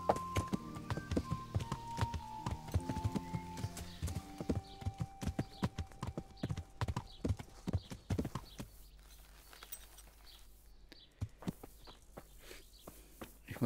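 A horse in the video game Kingdom Come Deliverance clip-clops along with a quick, regular beat of sharp hoofbeats. A few tonal game sounds are heard early, and the hooves stay close and steady throughout.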